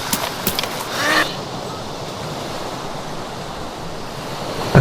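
Ocean waves wash steadily onto the shore in the DayZ video game, a broad constant roar of surf and wind at moderate loudness with a brief rush near the start.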